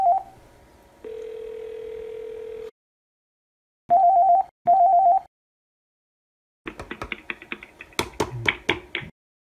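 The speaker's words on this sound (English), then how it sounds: "We'll make an external call from the E-MetroTel phone to a Panasonic IP phone." Dial tone from an E-MetroTel phone, then a steady tone, two short beeping bursts and a quick run of key presses dialing out to a Panasonic IP phone, each sound clear and close with silent gaps between.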